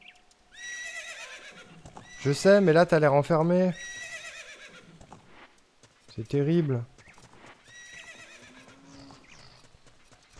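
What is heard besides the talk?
horse Epona neighing and hooves, Ocarina of Time video game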